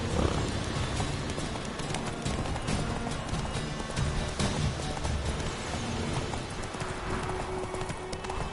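Roach the horse galloping in The Witcher 3, a steady, continuous clip-clop of hooves at speed over a dense game soundscape throughout.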